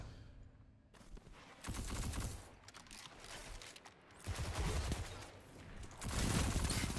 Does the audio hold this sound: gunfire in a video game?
yes